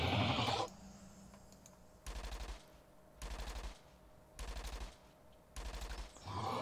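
Rapid gunfire from a weapon in the video game Entropia Universe, four evenly spaced bursts of fast repeated shots, moderately loud and separated by quiet pauses, no speech over them.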